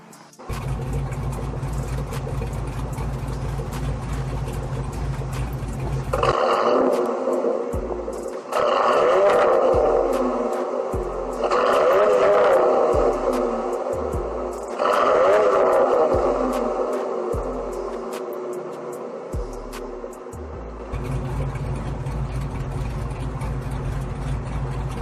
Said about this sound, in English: So let's give it a little idle and some revs.